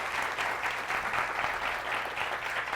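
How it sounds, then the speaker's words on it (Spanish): An auditorium audience gives steady, sustained applause after a talk at a university forum. The dense, even clapping sounds moderately distant and has no speech over it. "Por favor, un aplauso"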